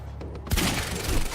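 A single heavy pistol shot in the action game Quantum Break, a loud close blast after a quieter stretch with a few faint earlier pops, followed by a dense ringing tail.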